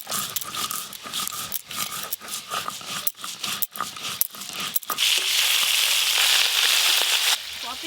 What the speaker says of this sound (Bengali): সরষে আর পোস্ত একসঙ্গে বেটে নেবো।